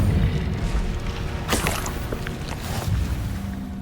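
An Incendio fire spell cast in Hogwarts Legacy bursts out as a sharp whooshing flare over a dense rumbling game soundscape, with a second fainter flare a moment later.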